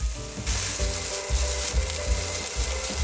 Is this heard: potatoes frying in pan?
yes